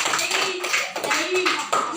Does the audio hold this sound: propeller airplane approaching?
no